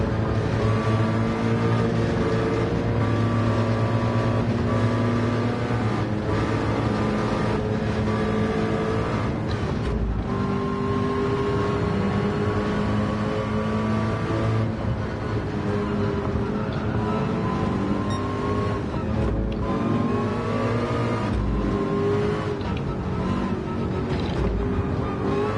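Race cars roar continuously around the Le Mans circuit in a VR racing game, engines droning and shifting pitch through corners with steady, loud mechanical tone and no talking.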